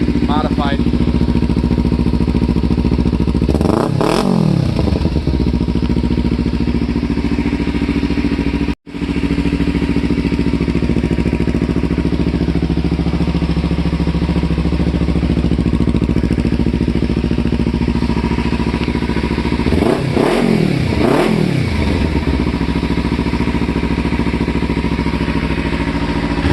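A Kawasaki Ninja motorcycle with a Ransoto slip-on exhaust idles loudly nearby, rising into two sharp revs, one early and one near the end, each climbing and dropping back, with a brief dropout between.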